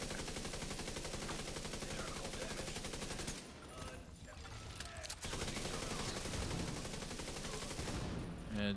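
Rapid automatic gunfire from a firefight in the video game The Division 2 runs almost without pause, loud and dense, with a short lull in the middle before the bursts resume.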